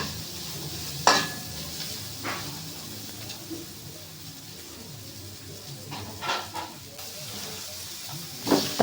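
Onion and ginger sauté in a pan for chicken adobo, a soft continuous sizzle broken by sharp clatters of a utensil stirring against the pan, with faint background sounds.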